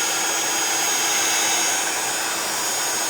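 A heat tool drying wet paint blows a loud, steady, close-up airy roar with a high whine and no break for the full few seconds.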